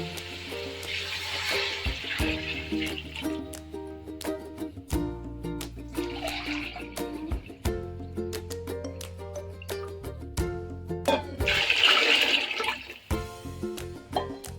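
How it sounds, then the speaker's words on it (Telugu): Water pours and splashes into a pot in a few gushing bursts over a steady background hum, close by. "ఇప్పుడు నీళ్ళు వేద్దాము."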